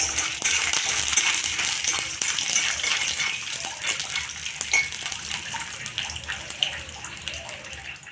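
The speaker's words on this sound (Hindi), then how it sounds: "अभी फ्राई करेंगे तेल में।" Dried jongcha frying in hot oil, a steady bright sizzle and crackle with scattered pops running throughout, close and fairly loud.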